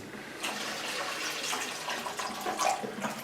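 About a litre of water poured into the bottom of a container for wax cleaning, a steady close splashing pour that lasts throughout, with a slight swell near the end.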